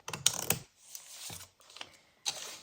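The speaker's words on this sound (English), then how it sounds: "So let's cut along this crease." Scissors snipping through paper along a fold while making a junk journal, a few crisp close cuts and rustles separated by short pauses.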